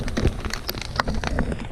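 Rain patters irregularly on a tent during a mountain storm, a dense, close crackle of drops with scattered sharper taps and no voices.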